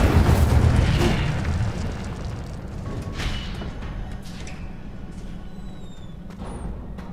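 An Incendio fire spell erupts in Hogwarts Legacy, a heavy whooshing boom up front followed by a long rumbling, crackling fade with faint higher chirps near the end.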